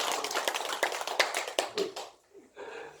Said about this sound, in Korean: 심심한데 박수가 치고요.